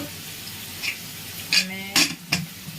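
Marinated mushrooms coated in masala and yogurt sizzle in a pan, with a steady soft frying hiss broken by a few brief scraping, stirring clatters near the end.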